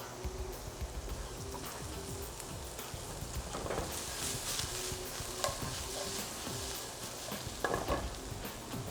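Carrots and onions sizzle in a hot pan while caramelizing for braised chicken with apple cider, a steady soft frying hiss with occasional scraping stirs, fairly quiet and without talk.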